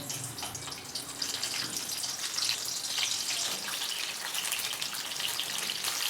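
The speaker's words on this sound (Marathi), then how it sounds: "मिरच्या भाजायला लागल्या की मिरच्यांचा तडतड आवाज येतो" Bell peppers, stem end first, crackle and sizzle steadily in hot oil in a pan, a dense continuous spatter with no talking.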